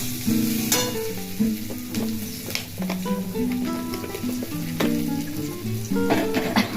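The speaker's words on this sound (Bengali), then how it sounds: "ওটা গরম মশলা আমি তেলের মধ্যে ফেলে দেবো" Garam masala dropped into hot oil for a potato and pointed gourd korma sizzles loudly and continuously, with occasional stirring scrapes throughout.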